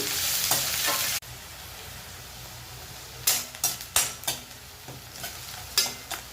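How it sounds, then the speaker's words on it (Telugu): Onions and green chilies fry in a pan for tomato rice, a loud hissing sizzle at first that cuts off, followed by a series of scraping stirs and light clinks of a spoon against the pan, with no talking. "ఉల్లిపాయలు వేగాయి."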